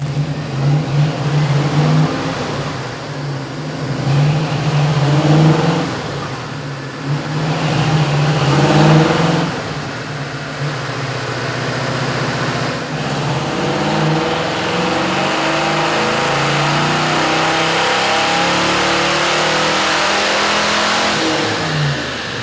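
A 1967 Mustang GT fastback with a 428 Cobra Jet V8 roars on a dyno, its loud engine note rising and falling through several revs before settling into a long, steady high-rpm pull.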